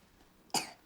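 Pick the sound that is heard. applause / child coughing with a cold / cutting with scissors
child coughing with a cold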